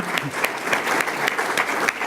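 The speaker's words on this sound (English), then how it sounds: "I want to give a round of applause" Audience giving a round of applause in a hall, dense steady clapping from a crowd at moderate loudness, heard alone.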